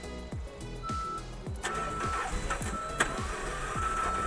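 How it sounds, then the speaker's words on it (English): Car engine cranking with rough, uneven firing and sharp backfire pops, failing to catch, heard close up over continuous mechanical noise in a salvage auction yard. "it's backfiring and not wanting to start"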